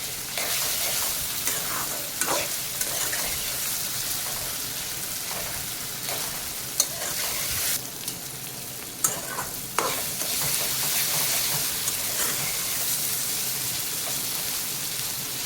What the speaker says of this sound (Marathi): छान मॅश होऊस्तोवर परतवून घ्यायचंय टोमॅटोला